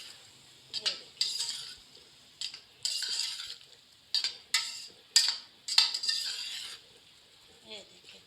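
Aloo mattar biryani mixture roasting in ghee, stirred with a metal spoon against the pot in a series of scraping, clinking strokes about once a second over a faint sizzle.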